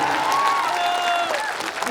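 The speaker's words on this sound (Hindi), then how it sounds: "एक जोरदार ताली आप लोग बजाइए।" Audience at a Bhojpuri live stage show clapping loudly, a thick continuous applause with cheering and whistles mixed in, tapering slightly toward the end.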